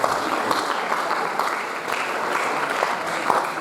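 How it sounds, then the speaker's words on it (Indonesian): Steady applause from an audience in a college auditorium during a book discussion, a dense even wash of clapping that holds at a constant level throughout. "Tepuk tanganlah untuk saya."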